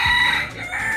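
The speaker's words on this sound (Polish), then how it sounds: "Koguty pieją." A rooster crows outdoors at a food stop in Miami, Florida, a single bright, sustained call that fills the whole moment, close and fairly loud, with no talking over it.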